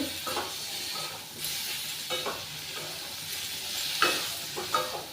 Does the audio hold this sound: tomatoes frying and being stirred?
yes